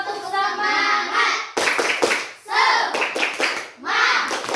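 Schoolchildren in a classroom doing a rhythmic spirit-clap chant, bursts of clapping hands mixed with loud group voices shouting along in patterned rhythm, close and lively.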